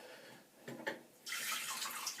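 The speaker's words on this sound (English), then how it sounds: "I just need to drain the sink. It's got a bit full." A full sink drains after a shave, giving a quiet gurgle with a couple of splashes, then a steady rushing of water that carries on to the end.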